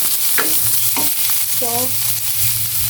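A loud, steady sizzle of food sautéing in a pan for a simple chayote dish, with a few scraping stirs of a utensil against the pan and no talking.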